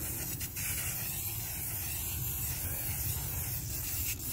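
Buck Bomb deer estrus scent spray hissing from an aerosol can outdoors, a loud continuous spray lasting the full few seconds with slight rustling underneath.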